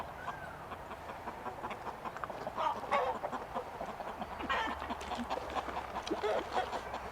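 Chickens cluck in a homestead chicken house at a primitive mountain settlement, with a steady chorus of short, overlapping calls that swell at moments over a constant background murmur.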